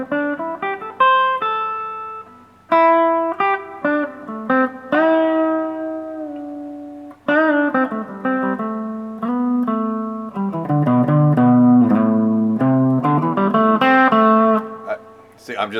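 A guitar is played in a continuous melodic passage of plucked notes and chords, moving between higher and lower tones, close and clear without pauses.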